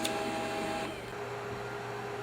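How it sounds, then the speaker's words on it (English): Samsung M2026W mono laser printer feeding a sheet and printing, a steady mechanical whir with a soft rolling rhythm and a brief clunk near the start, moderately close and alone. "the printer is emitting a little bit of noise. It's taking the sheet in and it's spitting it out"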